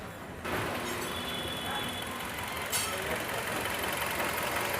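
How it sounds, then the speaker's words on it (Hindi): A Hyundai Creta engine idles with a cylinder misfire while the check engine light flashes, a steady, slightly uneven mechanical drone heard close by after a quiet start. "इसका सिलेंडर मिसफायर हो रहा है, हल्का हिल रहा है।"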